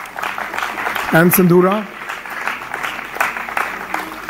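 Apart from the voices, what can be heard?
audience applause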